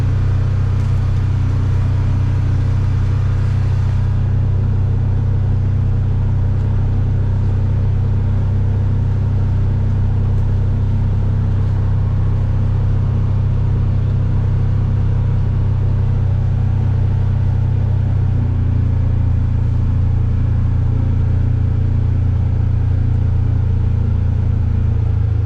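A four-wheel-drive vehicle engine drones loud and steady at close range, its low hum stepping to a new pitch partway through as it shifts up into high gear, with no talking.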